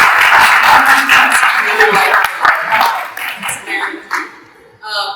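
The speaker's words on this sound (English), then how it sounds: "let's give another big round of applause" An audience at a tick ecology talk gives a round of applause, loud and dense at first, then thinning into scattered claps as a voice speaks over it.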